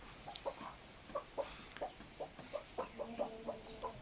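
Hens cluck in short repeated bursts close by, near an automatic stainless steel poultry feeder, with a dozen or so quick calls spread evenly and no talk.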